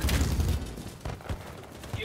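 Gunfire in the shooter game BattleBit: a short burst of shots at the start, then scattered bangs, mixed with talking voices over game background noise.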